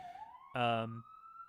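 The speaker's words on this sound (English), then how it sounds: "apologies for the famous 5-star sirens, which are exceedingly loud" A loud, near siren sound effect on a sports radio show: a rising wail is cut across by a brief blaring horn-like burst, then the wail continues alone.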